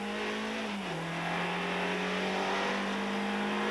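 Onboard engine sound from inside a 1986 rally race car during the Rallye du Var, a steady loud drone with the engine note shifting pitch as it revs, without speech.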